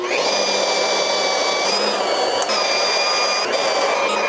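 A drill press boring holes into cast iron produces a loud, steady high-pitched whine with a continuous grinding hiss, close and unbroken, with slight pitch dips as the bit bites.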